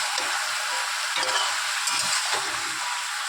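Whole green chilies fry in hot oil in a pan, a steady close crackling sizzle with soft stirring scrapes throughout.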